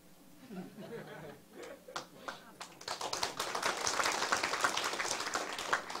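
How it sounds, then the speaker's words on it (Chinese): A meeting audience bursts into applause: after a few seconds of a voice and scattered claps, dense sustained clapping builds and fills the room. "讲到免出钱，大家都拍手。"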